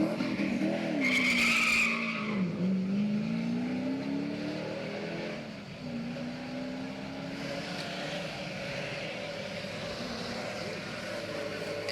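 A Porsche 928 race car with a front-mounted water-cooled engine climbs a hill road at the Coppa della Consuma, its engine note rising and falling through gear changes, with a brief tire squeal early on and a steady mid-distance drone.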